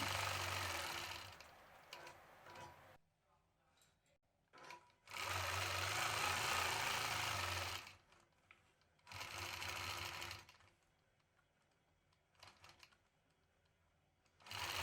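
A sewing machine stitches cross-hatching on a basket quilt, running in fast, loud bursts of rapid needle chatter separated by quiet pauses and a few short spurts, with no talk.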